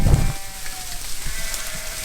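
Young ewe lambs on a farm give a short bleat at the start, followed by soft background shuffling and patter, moderately close, with no talk.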